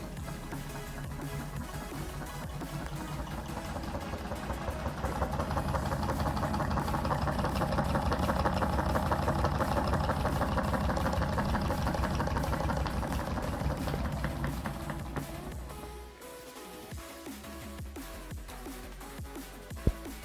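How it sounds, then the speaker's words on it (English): A homemade solenoid engine runs on a 2S battery with a fast, rattling mechanical clatter, close and steady before slowing and dropping to a quieter hum near the end. "Here is the old engine on 2S."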